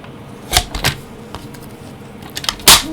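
Blade trimming the edges off a stamped greeting card, a few sharp crisp cuts up close with quieter handling in between.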